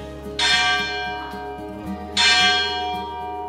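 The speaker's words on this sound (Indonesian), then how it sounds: "Sebelum ibadat, lonceng dibunyikan sebagai penanda akan dimulainya misa." A church bell rings out twice before Mass, each deep, resonant strike leaving a long humming decay that lingers between the tolls.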